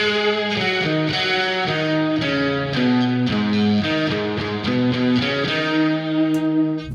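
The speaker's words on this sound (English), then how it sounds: "Here I have a guitar solo, but it's actually 3 guitars." Three distorted electric guitars layered in octaves play a melodic solo, with sustained notes and quick runs of stacked pitches, loud and continuous with effects-laden tone.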